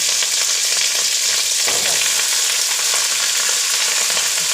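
An omelette frying in a pan makes a loud, constant sizzle and crackle with a brief scrape of stirring, close up and without speech.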